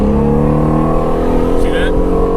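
A Ford Mustang Shelby GT350 engine runs loud and close with a steady harmonic exhaust drone, and a brief crackly burst comes near the end.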